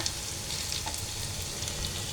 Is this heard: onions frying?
yes